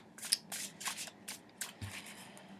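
Tarot cards are shuffled by hand in a quiet room, a run of soft papery riffles and slides in irregular bursts, close and fairly faint, with no talking.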